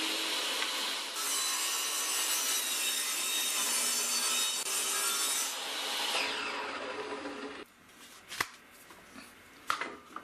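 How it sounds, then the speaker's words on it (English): A saw cutting 3/4 inch plywood makes a loud, steady, close rasping for several seconds before the cut ends, followed by a few sharp knocks and clunks of wood being handled. "Cutting our 3/4 inch plywood for one side of the."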